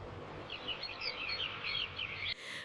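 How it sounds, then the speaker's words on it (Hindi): Birds chirp in a forest, a rapid string of high twittering calls at moderate distance over soft background hiss, cut off abruptly near the end. "जंगल में हर तरफ चिड़ियों की चहचहाहट"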